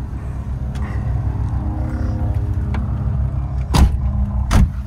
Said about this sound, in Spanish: quiero que escuchen desde el cierre de las puertas